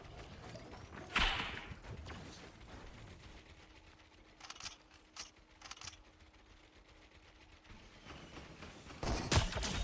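Sniper rifle fire in the Fortnite video game comes as a few sharp cracks spread out over the stretch, with quieter game noise and clicks between them and a louder burst at the end, and no talking.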